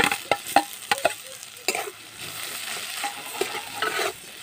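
Mashed boiled potato stirred and frying with spices in a pan, close scraping strokes of a spatula in quick bursts over a soft, steady sizzle, with no voices.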